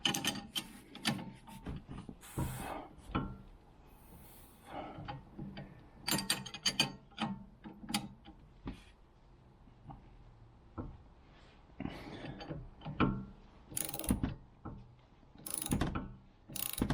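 A ratchet socket wrench clicking in quick bursts while a Hotchkis sway bar is fitted to a Dodge Challenger R/T, sharp close ratcheting strokes separated by short pauses, no talking.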